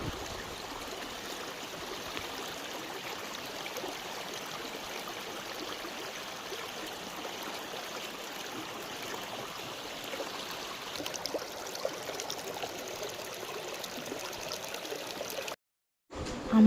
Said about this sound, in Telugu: ఇంక చూడండి వాటర్ వస్తున్నాయి కదా మెల్లగా.